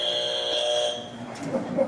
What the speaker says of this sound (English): I have my handy dandy buzzer, which I will use if there's excessive marketing jargon or if we go over time